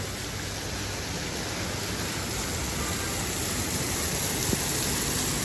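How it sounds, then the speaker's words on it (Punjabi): Rainwater pours from roof downspouts after a heavy rain in Jubail, Saudi Arabia, a constant dense rushing gush, loud and unbroken, with no talking. "ਦੇਖੋ ਪਰਨਾਲੇ ਚ ਹੋ ਰਹੇ ਨੇ ਪਰਨਾਲੇ"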